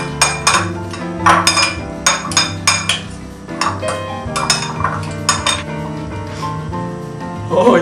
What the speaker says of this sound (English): take your fork and your knife, mm -hmm. and you stir.